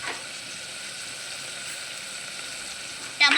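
Potato pieces frying in a pan for vegetable biryani make a soft, even sizzle that holds steady throughout, with a brief louder clatter at the very end.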